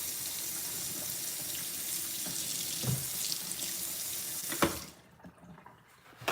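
Water from a kitchen sink faucet runs steadily while chicken thighs are washed, with a continuous hiss, faint splashes and a brief clunk before the flow cuts off near the end.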